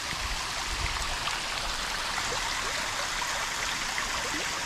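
Spring water runs at Kin Ukkaga in Kin, Okinawa, a gentle, continuous hiss and trickle heard close up and alone, without pauses.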